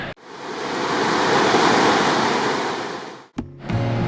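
A river rushes past a picnic area with barbecue spots, a loud, steady broadband wash of flowing water heard close for about three seconds before an abrupt cut.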